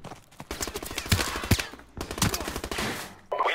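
Gunfire in the video game Call of Duty Modern Warfare Remastered: rapid bursts of automatic shots in two volleys with a short pause between them, loud and sharp, followed by a brief noisy burst.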